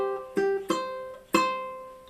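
Ukulele picks out a short syncopated phrase from the fiddle tune Whiskey Before Breakfast: three plucked attacks in an uneven rhythm, each ringing briefly, played alone and fairly quiet.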